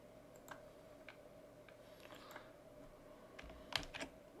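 Soft, scattered keystrokes on a computer keyboard, a few faint clicks spread out over a quiet room.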